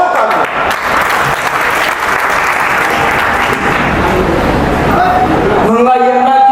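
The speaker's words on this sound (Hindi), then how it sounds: "जोरदार तालियां" Loud, dense applause from a crowd at an Independence Day celebration event, continuous and close, tailing off in the final second as another sound cuts in.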